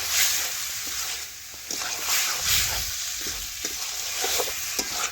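Jackfruit and prawn curry is stirred as it fries in a pan, with a steady close sizzle punctuated by repeated scraping and sloshing strokes of the spatula and no speech.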